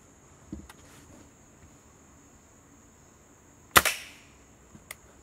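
A gun fires at a Tonka toy truck: a few faint early pops, then one loud sharp crack with a short ringing decay near the middle and a small click afterward, over a steady high hiss.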